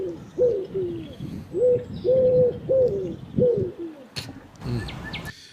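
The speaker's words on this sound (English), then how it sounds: "No, that was a pigeon." A pigeon coos in a steady run of about seven rhythmic, throaty calls, close and clear, followed by a short burst of brighter chirping and rustle near the end.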